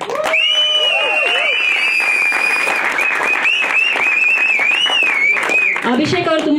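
An audience at a Kannada short-film press meet breaks into loud, sustained applause, sharp shrill whistles riding over the dense clapping until it drops away near the end.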